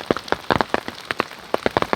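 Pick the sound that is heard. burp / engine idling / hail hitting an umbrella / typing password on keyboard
hail hitting an umbrella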